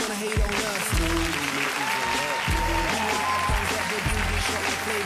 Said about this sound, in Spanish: Los aplausos salieron solo.